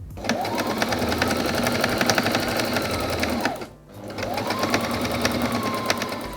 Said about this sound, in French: j'ai commencé à coudre mes oreilles de lapin qui seront d'un côté en double gaze et à l'intérieur en doublure